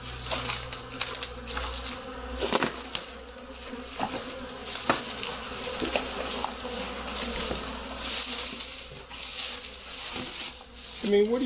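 Honey bees swarm in spring activity around a backyard hive, a dense continuous buzzing drone close to the microphone with scattered louder passes of individual bees.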